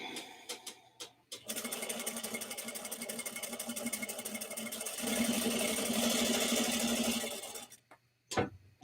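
A sewing machine stitches around a fabric bucket bag, a steady rapid mechanical whirr running for about six seconds after a few handling clicks, then stopping, close and fairly loud.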